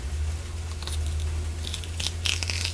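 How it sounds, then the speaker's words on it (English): A knife cuts celery into long strips, giving crisp, crunchy snaps and tearing sounds that come in irregular bursts over a low steady hum, close up with no talking. "The next thing I need to do is start chopping my celery."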